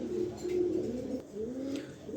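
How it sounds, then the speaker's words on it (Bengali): A pair of blue bar racing pigeons coo in low, repeated rolling calls, close by and alone with no talk. "দেখেন এখানে এক পেয়ার ব্লুবার কবুতর দিলাম"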